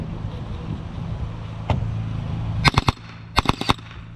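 RDX B.O.S.S unit foam blaster firing on full auto in two quick bursts of sharp rapid shots, one burst of about three and a second of about four, preceded by a single shot under a low background hum.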